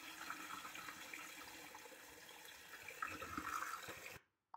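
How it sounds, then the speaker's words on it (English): Coolant drains from the radiator of a Mercedes W460 300GD with an OM617 engine into a bucket: a steady, faint splashing and gurgling pour that stops abruptly at the end. "Just undoing the radiator drainage,"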